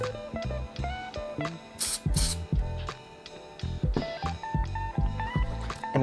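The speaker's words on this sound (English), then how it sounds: "silicone surface spray to make sure that nothing sticks to our model" Silicone mould release spray hisses out in two short bursts, nearly back to back, under louder background music.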